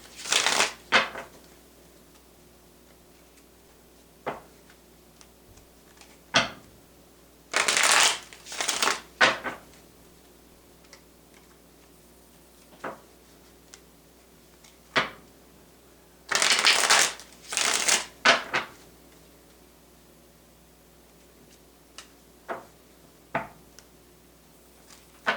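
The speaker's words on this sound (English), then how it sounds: "I'll get 3 shuffles for Leo." Tarot cards are shuffled in several quick riffling bursts separated by quiet pauses, with scattered light taps and card clicks in between, all close and fairly soft.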